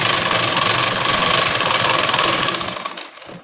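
A sewing machine stitches a blouse, running fast and steady with a dense mechanical whir and rapid needle chatter, loud and close, then slowing and stopping near the end.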